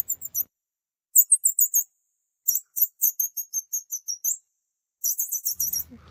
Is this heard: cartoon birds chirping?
yes